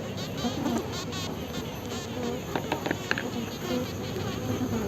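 Colony of Tetragonula biroi stingless bees humming continuously at close range, a dense steady buzz with scattered sharper wingbeat passes and faint handling sounds.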